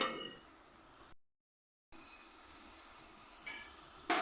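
Ground garlic sizzles in hot oil in a pan for Thalassery chicken dum biryani, a steady close hiss that cuts out briefly and resumes, with a faint clink near the end.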